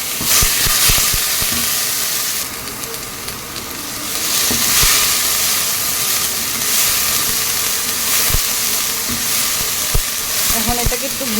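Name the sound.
frying onion, chili, cumin and coriander paste in oil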